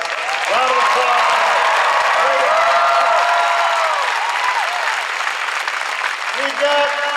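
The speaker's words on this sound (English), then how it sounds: "So can everybody please give Katie an unbelievable round of applause?" Loud, sustained applause from a large crowd at a President Obama speech at UW-Madison, with dense clapping that fills the space without pause.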